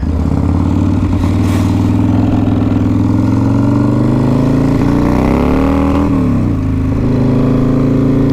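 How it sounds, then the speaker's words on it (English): A Harley-Davidson Fat Boy with a 140ci motor and freshly cleared fouled plugs runs loud and close, a deep thumping idle that swells into a couple of rising revs before settling back, with no speech. "we were having some problems firing up this bike, but then we realized that the plugs were just fouled"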